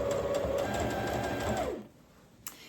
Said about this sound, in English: pop the foot down and just run a couple of stitches forward